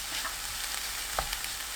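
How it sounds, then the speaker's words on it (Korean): Shiitake mushrooms sizzle steadily as they stir-fry in a hot pan, with a couple of light scraping stirs partway through. "표고버섯 넣고 1분 볶습니다."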